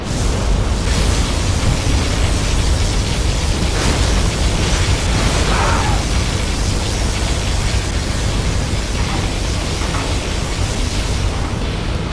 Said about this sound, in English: Our particle cannon has been activated.